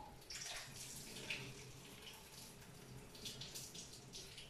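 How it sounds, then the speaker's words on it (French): Hot pasta water poured through a makeshift strainer in a home kitchen, a steady faint splashing rush lasting several seconds with no talk. "Et je vais verser l'eau comme ceci."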